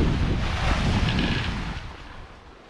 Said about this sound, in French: il y a juste un petit grain de vent